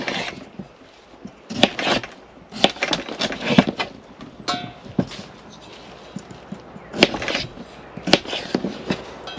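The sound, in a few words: knife cutting potatoes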